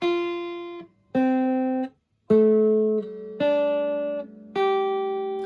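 Sustained plucked guitar notes played one at a time, stepping up and then back down, each ringing clearly with short gaps between them.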